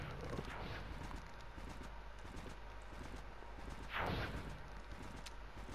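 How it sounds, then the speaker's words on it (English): Horse hooves clip-clop steadily in the Trove video game, a continuous patter under a constant background hum, with a brief louder burst near the end. "let me mount the horse running around right here"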